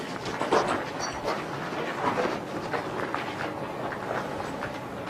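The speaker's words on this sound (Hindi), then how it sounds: "जानवर भौंकना शुरू हो गया" A dog barks a few times at a distance around a house, the short yelps rising out of a steady, noisy background with no talk.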